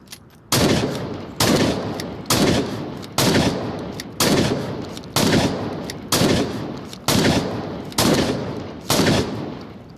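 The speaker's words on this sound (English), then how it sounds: "with the shotguns, it just automatically shoots. So if you want to just rapid fire it" Shotgun blasts fired in rapid succession in the VR shooter Onward, about ten loud, evenly spaced booms roughly one second apart, each with a short decaying tail.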